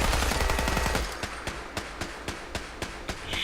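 Laser turrets in Fallout 4 let off a dense burst of fire, then settle into a steady rhythm of sharp, evenly spaced zaps about four per second, loud and close, with no talking.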